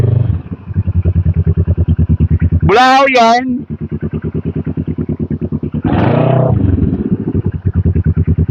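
Idling motorcycle engine with a steady low putter through the whole stretch, up close, with a brief rev and short voices and shouts over it on a stroll in Canlubang.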